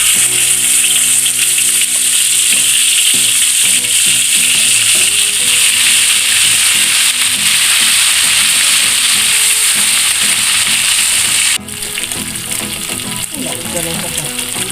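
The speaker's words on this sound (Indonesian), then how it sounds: "sekarang kita goreng cabenya" Chili peppers frying in hot oil for a Minang-style balado, a loud, dense, steady sizzle and crackle close up that drops slightly near the end, with no talking.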